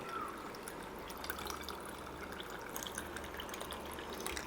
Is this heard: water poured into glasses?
yes